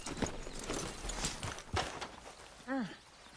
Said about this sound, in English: You know you're not supposed to have that horse in the camp.